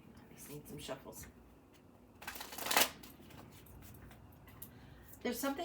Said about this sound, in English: just need some shuffles.